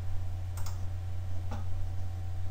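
A computer mouse gives two faint, crisp clicks about a second apart over a low steady electrical hum in a quiet room.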